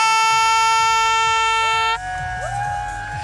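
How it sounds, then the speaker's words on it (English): A traditional Ethiopian horn blown at a Unity Day celebration gives one long, steady, bright and loud tone that sustains for about two seconds. It cuts off abruptly, followed by a softer rising toot over a crowd. "Can you give us a shout on the horn?"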